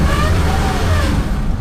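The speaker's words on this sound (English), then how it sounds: "into drive, and rolling onto the accelerator here" A Toyota Corolla Cross Hybrid accelerates from a stop on a slippery slip-test roller surface, a loud steady engine and drivetrain drone with tire rumble, heard from inside the cabin.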